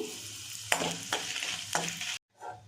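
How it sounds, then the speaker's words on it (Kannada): Five Byadgi and four Guntur dried red chillies frying in hot oil, a close sizzle broken by three sharp scraping stirs of a spatula before a brief cut to quieter frying. "ಅದೇ ಎಣ್ಣೆಗೆ ಬ್ಯಾಡಗಿ ಮೆಣಸಿನ್ಕಾಯಿ 5 ಹಾಕ್ತಾಯಿದ್ದೀನಿ, ಗುಂಟೂರು ಮೆಣಸಿನ್ಕಾಯಿ 4 ಹಾಕ್ತಾಯಿದ್ದೀನಿ."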